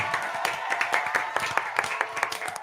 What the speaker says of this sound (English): We got to give a round of applause for Kristian.